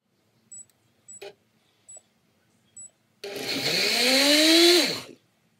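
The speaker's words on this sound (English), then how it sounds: "we're going to blend this together before we put the rest of the ingredients in" A few short clicks and taps are followed by a blender whirring loudly for about two seconds, blending coconut water and water for a smoothie, then winding down.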